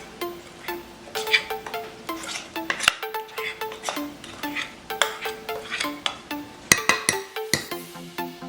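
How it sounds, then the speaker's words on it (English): A utensil scrapes and taps banana bread batter from a bowl into a baking pan, giving repeated close clinks and scrapes in an irregular rhythm. "now we're going to put our batter into our pan"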